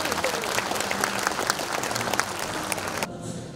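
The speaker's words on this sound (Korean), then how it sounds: "네, 여러분 큰 박수 부탁드립니다." An audience at a Korean disabled veterans' association 72nd anniversary ceremony in Yongin claps loudly and steadily for about three seconds before the applause abruptly drops away.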